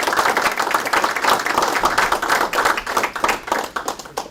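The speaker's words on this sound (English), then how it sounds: "give a round of applause to them" Close, loud audience clapping at a strategic deterrence seminar, with sharp individual hand claps in a brisk, uneven patter that continues the whole time and tapers slightly near the end.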